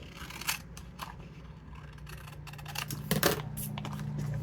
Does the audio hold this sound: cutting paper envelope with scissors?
yes